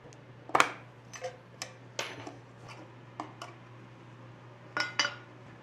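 Epoxy primer base being stirred in a metal can, a handful of sharp clinks and scrapes in uneven bursts against a quiet steady hum, close by with no talk.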